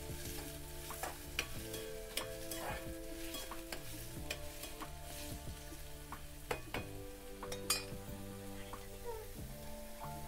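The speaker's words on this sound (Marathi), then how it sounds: "कांदा पण चांगला परतून घ्यायचा" Onion sautés in a pan with a quiet, steady sizzle and frequent light clinks of stirring, while faint music runs underneath.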